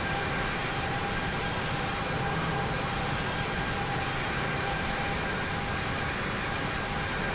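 A Boeing 737-800 taxiing in the flight simulator game Infinite Flight gives a steady, even engine roar and broadband hiss. It holds constant for the whole stretch with no breaks and no talk.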